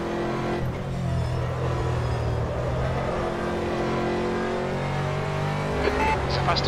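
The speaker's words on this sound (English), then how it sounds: "It's a faster car approaching." Aston Martin GT3 race car engines in rFactor at Silverstone, a steady loud engine drone with a faster car closing in behind, its pitch rising slightly, and a voice talking under the engine noise.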